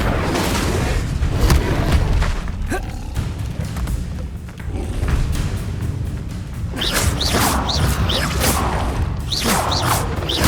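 Fire spells and other magic are cast in rapid succession during combat in Hogwarts Legacy, heard as loud whooshes, booms and thuds layered over a constant rumbling game soundscape, with sharp hissing bursts near the end.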